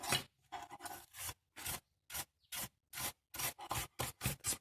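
Dried grease is scraped out of an old mortice lock in a run of short, close, rasping strokes. The strokes come irregularly at first, then quicken into a steady back-and-forth rhythm, quiet and alone.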